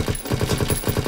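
A rapid automatic burst from a gun in Call of Duty WWII, about a dozen evenly spaced shots in quick succession, loud and close with no talking over it.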